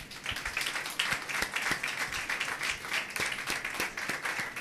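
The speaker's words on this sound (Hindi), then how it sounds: "बहुत मेहनती बच्चे हैं, इनके लिए तालियां बजाएं।" An audience applauding at a gathering, a dense steady patter of many hands clapping at moderate distance, continuous throughout without pauses.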